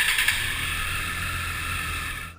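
A 2019 Triumph Street Triple RS motorcycle engine held at a steady, loud rev close by, with a sustained buzzing drone that cuts off abruptly near the end.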